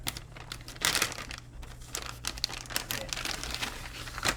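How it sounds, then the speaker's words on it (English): Sticker being peeled off a Gigabyte GTX 1080 Ti Founders Edition graphics card box, close crinkling and tearing of paper and plastic in short bursts, with no talking. "Get that sticker off the back there."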